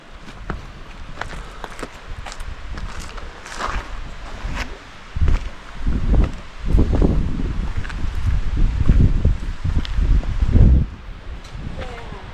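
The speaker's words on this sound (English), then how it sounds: "Oh, it's super windy. It's like a wind tunnel through here." Gusty wind through a narrow rocky gorge in Karijini National Park, buffeting the microphone in rising and falling bursts, with footsteps and rustling underneath.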